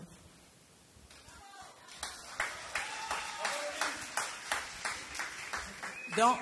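A talent show audience claps in a steady rhythmic beat, rising from a quiet start to a moderately loud, evenly spaced pulse, with faint tonal sounds underneath.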